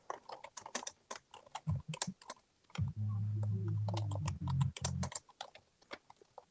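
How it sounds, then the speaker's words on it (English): Fingers typing on a computer keyboard, a brisk run of light clicks that stops briefly, with a low steady hum partway through, close to the microphone and with no talking. "You hear my little fingers typing?"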